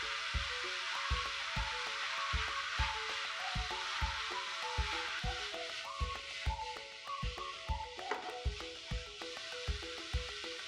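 Potato and pepper strips fry in a pan for a Chinese-style potato dish. A steady hiss of sizzling runs throughout, with a regular pulse of thumps and tinkly music mixed in at a moderate level.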